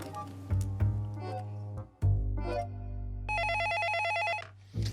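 A telephone rings in short electronic bursts, a bright trilling ring near the end following tonal chimes and brief sounds, fairly quiet and close, with no talk.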